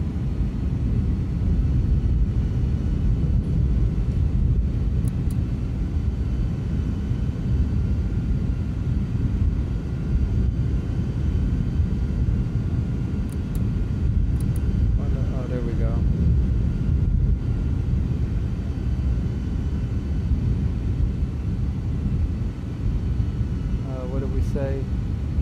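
Airbus A306 airliner on approach in Microsoft Flight Simulator, a steady low engine and airflow drone running continuously throughout, with a couple of faint brief chirps over it and speech nearby.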